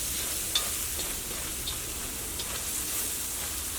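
Turmeric powder frying in hot oil for a bitter gourd pickle, a steady close sizzle with occasional soft pops and no talking.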